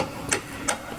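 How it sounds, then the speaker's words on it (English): A hammer drives a bolt into a car strut during suspension work, two sharp metallic taps about a third of a second apart, close and fairly loud over a steady background hiss. "I use hammer to put the bolt in."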